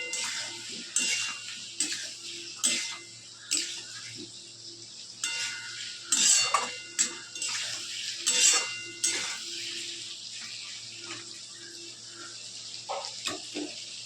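Mutton mince with tomatoes and potatoes is stirred in a pan, a steady run of metal spoon scrapes and clinks against the pan with a low background hum and no talking.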